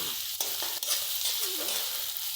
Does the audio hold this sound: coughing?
no